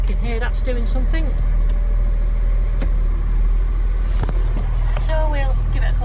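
A John Deere 6610 tractor engine runs steadily after a transmission service, a constant low diesel rumble close by, while people talk over it.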